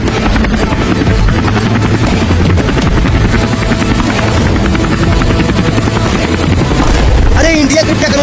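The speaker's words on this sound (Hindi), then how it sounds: "हम इतने बड़े हेलीकॉप्टर से उड़ रहे हैं" Loud, continuous helicopter rotor and engine roar close by, a dense steady thrum throughout, with some voice mixed in near the end.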